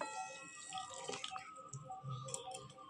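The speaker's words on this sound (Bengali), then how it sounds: "মিক্সচারে একটু ঘুরিয়ে কিন্তু এই জলটা দিয়ে দেবো" Water is poured into a mixer jar to rinse out mango pulp, a soft close splashing and trickling that runs throughout at low volume, with faint clinks mixed in.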